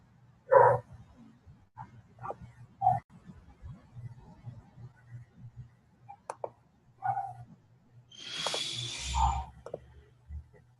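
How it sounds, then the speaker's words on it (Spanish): Small dog barking in the background of a quiet room, several faint sharp yips scattered across the clip amid soft clicks and a brief louder rustle. "alguien por allá tiene un perrito que ladrando."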